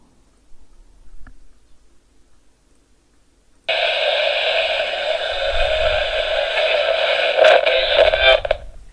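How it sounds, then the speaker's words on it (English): An emergency broadcast alert sounds over a radio ahead of an earthquake warning. After a few seconds of near silence, a loud, steady, buzzing multi-tone alert begins abruptly and holds to the end. "then you'll hear the sound effect and then a modified voice sharing an emergency"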